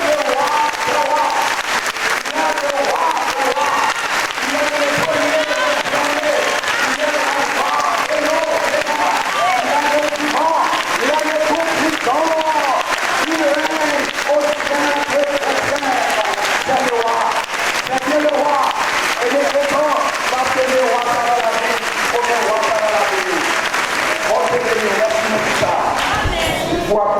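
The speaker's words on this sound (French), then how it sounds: "Applaudis le roi des rois." A church congregation at an evangelical worship service in Haiti applauds steadily and loudly for the whole stretch, a dense, continuous wash of clapping mixed with voices singing and calling out.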